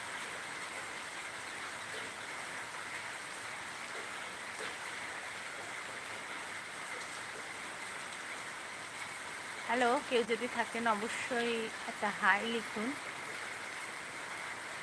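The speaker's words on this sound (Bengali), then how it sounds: "প্রচণ্ড পরিমাণে বৃষ্টি হচ্ছে প্রচণ্ড পরিমাণে প্রচণ্ড ভিজতেও ইচ্ছে করছে" Heavy rain falls in a steady, even wash of hiss over an overcast morning, continuous from start to end, with a voice speaking briefly over it near the close.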